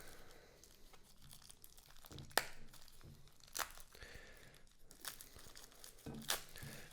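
Plastic candy packaging for gummy hot dogs and tacos is torn open, with crinkling and crackling throughout and several sharper rips standing out, close and fairly quiet.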